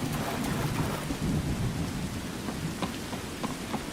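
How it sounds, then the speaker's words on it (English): Video game rain pours down steadily in modded Skyrim, with low rumbles of thunder rolling underneath and scattered drops pattering close by. "It's a little rainy out here."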